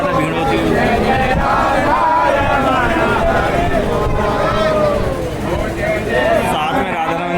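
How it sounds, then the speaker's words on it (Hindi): Dense crowd of devotees at the Shri Radharaman temple festival in Vrindavan, a loud continuous babble of many voices and chanting that fills the whole stretch with no break. "ये भैया देखिए श्रद्धालुओं की आवाज आ रही है"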